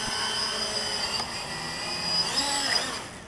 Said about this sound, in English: I'm gonna go ahead and let it land completely